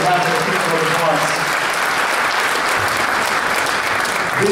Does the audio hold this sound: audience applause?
yes